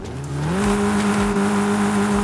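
A 1.5-litre car engine in Forza Horizon 5 revs up and holds a loud, steady drone, its pitch stepping up once early before settling, close and without talking.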